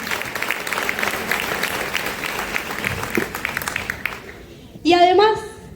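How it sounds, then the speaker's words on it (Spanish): Audience applause at a SUTEBA Matanza teachers' union pedagogical congress, steady dense clapping that fades out after about four seconds before a voice begins speaking close to the microphone. "un fuerte aplauso a Ceci, a Mari y a cada una de nuestras compañeras"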